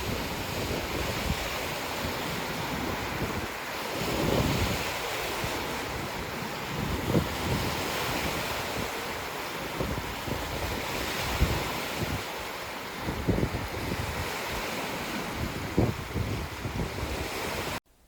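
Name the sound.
brisk waves and wind on Lake Superior shore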